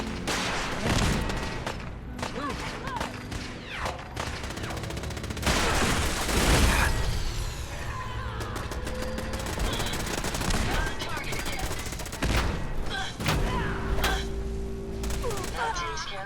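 Gunfire in the video game Fallout 4, a dense stretch of rapid shots and bursts from a firefight, loud and continuous over a busy game soundscape with voices mixed in.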